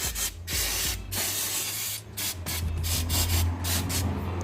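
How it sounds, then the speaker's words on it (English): Brake cleaner sprayed from an aerosol can onto Subaru Liberty brake parts, heard as several close, loud hissing bursts of varying length with brief gaps between them and no talk. "brake cleaner"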